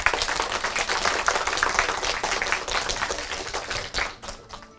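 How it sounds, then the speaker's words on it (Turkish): A classroom audience at a girls' school drama event claps vigorously to vote for a contestant, a dense crackle of many hands that holds steady and then trails off toward the end. "1 ve 2 arasında tekrar bir alkış yaptıracağım."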